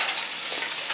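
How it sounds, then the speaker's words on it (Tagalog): Tofu and eggplant stir fry frying in a pan, a steady close hiss of sizzling oil that holds evenly through the whole moment with no talk. "Tofu and eggplant stir fry."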